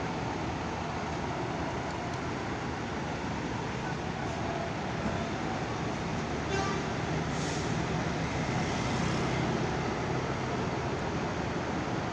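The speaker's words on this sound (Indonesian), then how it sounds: "Masih ada bis lewat ya." Buses and heavy road traffic at the busy Purabaya Bungurasih bus terminal in Surabaya, a steady broadband roar of engines with a brief hiss like an air brake midway and no clear talk.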